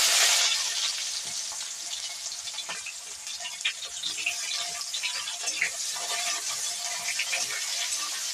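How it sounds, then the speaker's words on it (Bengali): Onions frying in oil in a pan after fish was fried, a steady broadband sizzle with small crackles throughout, close and moderately loud, with no talk. "পেঁয়াজটা একটু লাল করে নেব।"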